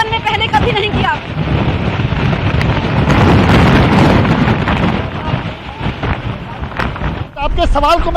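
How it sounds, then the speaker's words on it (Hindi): Cyclone Biparjoy's strong winds roar and buffet the microphone in Gujarat with a loud, continuous broadband rush that swells and dips. A voice is partly audible beneath the gusts. "यहाँ पर तेज हवाएं जिस तरीके से चल रही है"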